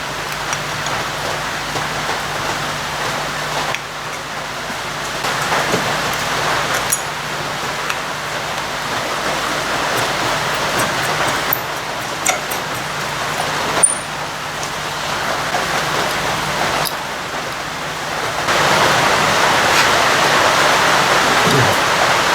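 Steady rain falls outdoors in a broad, continuous patter with faint road traffic behind it, getting louder toward the end.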